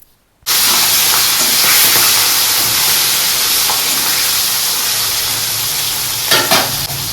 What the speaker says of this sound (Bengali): তেলটা কড়াতে গরম হয়ে যেতে মাছটা ছেড়ে দিচ্ছি